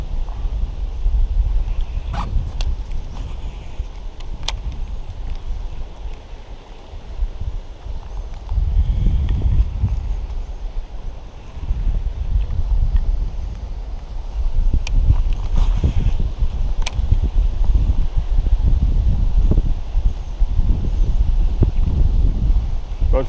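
Steady wind buffets the microphone on the water during a bass fishing outing in the spawn season, a continuous low rumbling roar with gusts swelling and easing, plus a few faint clicks.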